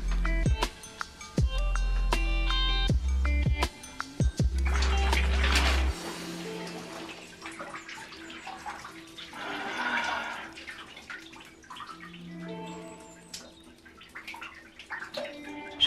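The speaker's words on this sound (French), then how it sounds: "Je viens de rincer l'après-shampoing" Water running and splashing while conditioner is rinsed out of hair, beginning with several sharp knocks and bursts, then a softer uneven stream of trickling and sloshing.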